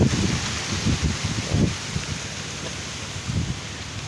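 Gusty wind blows across an outdoor spot, roaring in uneven low bursts with rain-like hiss underneath; no one speaks during the gusts.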